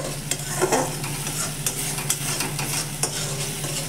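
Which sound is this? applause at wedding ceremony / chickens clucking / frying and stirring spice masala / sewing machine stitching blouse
frying and stirring spice masala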